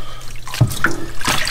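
Steaming hot water mixed with Purple Power cleaner trickles and splashes out of a dirty, oil-caked 6.0 Powerstroke oil filter, heard as close, uneven bursts of dribbling liquid with no talking.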